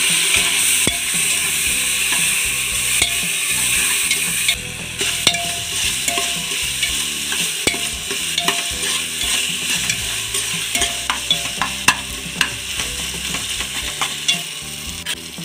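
Tomatoes sautéing for chicken biryani, a steady close sizzle and hiss with repeated spoon scrapes and stirring clatter running through the whole stretch, no voices.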